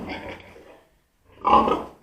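Two pig grunts, close and loud, separated by a short silence, the second one deeper and stronger.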